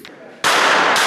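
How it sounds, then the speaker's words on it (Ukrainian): Combat weapon gunfire at a military sports competition, a sharp loud blast that cuts in abruptly and rings out, very close. "Стріляли з бойової зброї"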